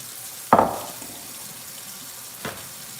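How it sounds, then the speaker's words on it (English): Tap water gushes into a kitchen sink as raw chicken is rinsed: a sudden loud splash burst that fades into a faint running trickle, with a second brief splash near the end. "Let's rinse the chicken off."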